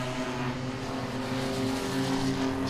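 Race cars in an enduro event at Langley Speedway roar continuously around the oval, a dense steady engine drone with layered tones from several cars, loud and sustained without a break.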